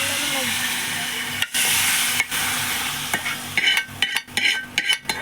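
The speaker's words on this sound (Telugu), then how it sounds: "స్టవ్ ఆఫ్ చేసుకొని దాన్ని మిక్స్ చేస్తూ ఉండాలి." Fried tempering stirred into buttermilk in a home kitchen, with a sizzling hiss and scraping stirring strokes close by that grow more irregular toward the end.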